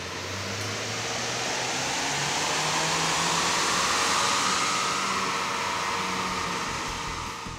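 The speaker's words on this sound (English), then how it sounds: "Now let's get the 2 liter on the rollers and see what that can do." A Jeep JL with the 2.0-liter turbo engine runs on dyno rollers, giving a loud, steady roar with a broad rushing whoosh and low engine drone that holds through the pull without talk.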